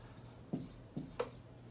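Pen strokes on paper while drawing a paper megaphone in a first grade lesson, three short soft scratchy marks close by and quiet, with no talk.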